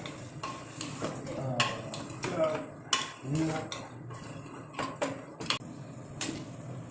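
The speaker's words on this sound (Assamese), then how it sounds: "লৰাই আছোঁ অলপ লাগি নধৰিবলৈ লৰাই আছোঁ মানে।" A spoon clinks and scrapes against a cooking pot while mutton is stirred, giving intermittent soft knocks and scrapes at close range. A voice talks quietly in the background.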